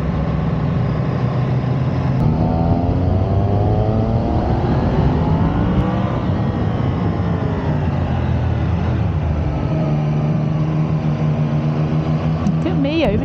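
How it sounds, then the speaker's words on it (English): A touring motorcycle overtakes on a mountain road corner in the Picos de Europa, Spain, its engine loud and close as it revs up and down through the gears over a steady wind roar. "Look at me overtaking on a corner, how about that?"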